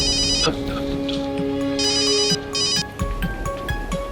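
An electronic phone ringtone trills in bursts, close and clear, joined by a sustained melodic tone and some soft background movement.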